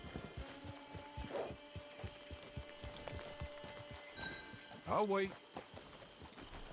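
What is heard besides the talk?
horse hooves in video game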